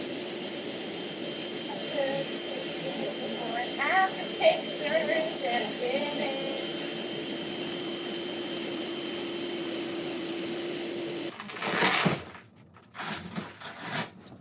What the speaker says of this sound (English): I'm gonna start with the vacuum.